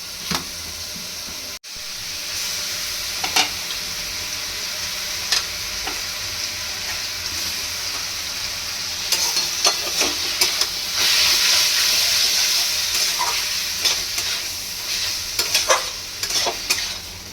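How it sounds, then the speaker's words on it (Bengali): Prawns with green chillies fry in a pan of oil for a spicy prawn jhal frezi, a steady close sizzle broken by recurring scrapes and clacks of stirring that grow busier toward the end, with no talking. "এবার এটা ভালো করে ভাজা হবে।"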